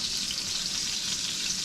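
Chicken fried steak frying in a pan, a steady dense hiss and crackle of hot oil that stays constant throughout, close and uninterrupted with no voices.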